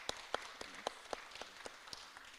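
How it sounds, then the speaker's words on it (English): At a student senate town hall, faint, sparse clapping sounds, with about nine evenly spaced claps that seem to come from only one or two people. "let's give them a round of applause"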